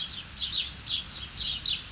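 Birds chirp at sunset in Arizona, short bright tweets repeating in loose bursts at a moderate distance over a faint outdoor hush.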